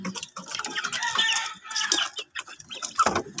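A hen and her chicks cluck and cheep at feeding time on a farm, in busy overlapping close calls with short gaps between them.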